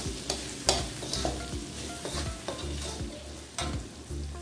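Glass noodles with oyster sauce, seasoning, salt and white pepper stirred in a hot pan, a steady sizzle broken by repeated scraping strokes of a spatula, close and fairly loud, with no talking.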